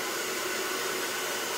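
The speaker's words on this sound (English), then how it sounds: "I'm gonna put the blow dryer on high heat and do this for a few minutes" A handheld hair dryer blows on high heat during a blowout, giving a steady, loud rush of airy noise with no pauses and no voices.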